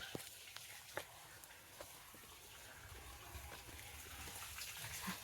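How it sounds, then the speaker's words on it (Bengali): Water poured onto soil in a small vegetable garden, a faint steady gushing splash with a few small drips and knocks, quiet and without speech. "এখন মাটিগুলোতে জল দেওয়া হচ্ছে"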